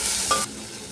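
Onion, green chili and tomato stirred in a hot frying pan make a close, dense sizzle with a brief scrape of the spatula, then a softer continuing fry.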